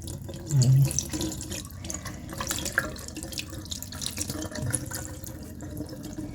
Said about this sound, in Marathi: धुवून बघते आधी मी बेसिनजवळ आले